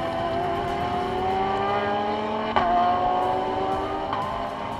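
Audi and Bentley race cars scream around Sepang circuit, engines holding high, rising pitches as they accelerate, with a sharp gear-change crack midway; sustained, loud and close, no voices.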